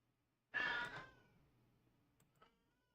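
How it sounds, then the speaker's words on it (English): A single drawn-out cat meow rings out from a bathroom, loud at first then trailing off, followed by a few faint clicks in an otherwise quiet room. "he's meowing from the bathroom"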